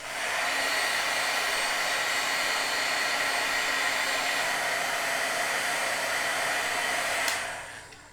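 An embossing heat tool blows hot air in a craft room, a steady, loud, even whoosh that runs alone for about seven seconds before cutting off near the end.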